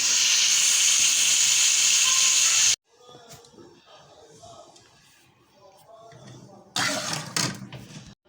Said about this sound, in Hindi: सब भूनेंगे चनों को अच्छी तरह से, बाकी चनों को भी भून लेंगे